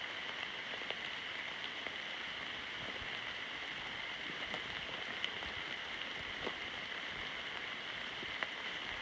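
Steady rain hisses through autumn woods in Maine during a hike, a constant wash of fine patter with scattered sharper drop ticks, moderately close and continuous throughout.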